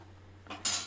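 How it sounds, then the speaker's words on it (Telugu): A metal ladle scrapes and clinks against a pot as Telangana-style pappu charu (dal) is moved into a bowl, a short, quiet scrape that swells into a brighter rasp. "ఇప్పుడు ఒక గిన్నెలోకి తీసుకుంటున్నా."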